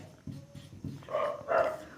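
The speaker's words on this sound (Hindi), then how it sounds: "कुत्ते भौंक रहे हैं" Dogs bark at night, a few short, close barks in quick succession followed by two louder, longer barking bursts, with no talk.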